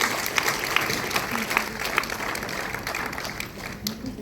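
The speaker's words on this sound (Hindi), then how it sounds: "इस पूरी टीम के लिए एक बार जोरदार तालियों से" An audience at a conclave event applauds the team: a soft, steady patter of many hands clapping, heard from some distance and fairly quiet throughout.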